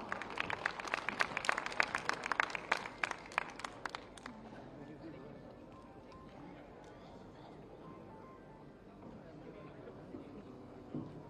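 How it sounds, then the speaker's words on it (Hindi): An audience applauds loudly at a memorial ceremony unveiling a statue of former Prime Minister Atal Bihari Vajpayee on his death anniversary. The dense clapping lasts about four seconds, then fades into a quieter murmur of the crowd. "आप सबकी जोरदार तालियों के साथ"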